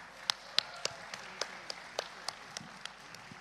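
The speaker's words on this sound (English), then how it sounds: "Let me hear the round of applause." Applause at a high school commencement ceremony comes through as a run of slow, evenly spaced claps, sharp and fairly faint, as if from a small number of hands rather than a full crowd.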